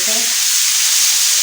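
Fatty minced keema frying in a pan over low heat, a steady close hiss of sizzling fat throughout with a faint brief scrape at the start.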